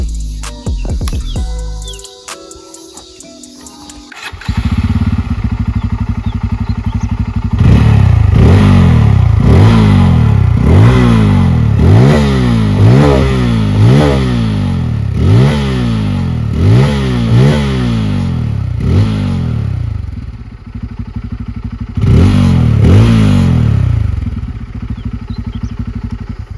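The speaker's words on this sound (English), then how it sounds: "let's just hear the exhaust note. Let's start it up." A 2023 Bajaj Pulsar N250 motorcycle engine cranks and fires up, then revs repeatedly in rising and falling bursts, loud and close, settling to idle before one more rev.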